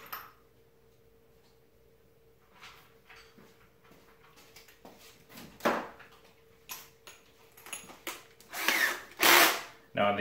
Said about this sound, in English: turn your drill way down